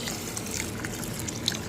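Rinse water poured off soaked green gram (mung beans) in a kitchen, a steady close splashing trickle with small drips, running continuously.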